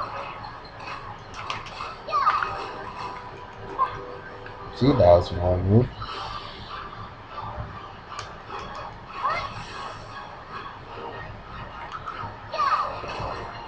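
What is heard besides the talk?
dog yelping and whimpering in video game Dragon Nest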